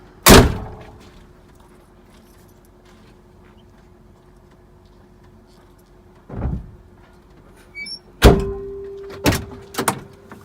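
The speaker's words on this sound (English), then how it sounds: "Shut my door." A truck cab door thuds shut loudly near the start, followed by a few more heavy thunks and clunks after a quiet pause.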